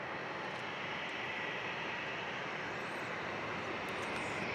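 A Boeing 737-700 jet airliner at San Diego International Airport rumbles as a steady, loud broadband roar that holds evenly throughout, with no voices.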